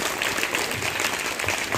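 Applause from an audience at a World Yoga Day 2024 session, a short burst of dense, even clapping from many hands, close and loud with no talk over it.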